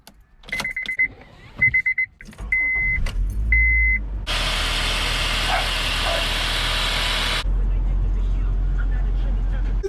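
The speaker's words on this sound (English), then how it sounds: "Today I'm driving a 2002 Honda Civic" A 2002 Honda Civic EX with a five-speed manual transmission, heard from inside the cabin: several short electronic beeps give way to a steady, loud engine and road drone that holds through most of the clip, with a brief talking voice near the start.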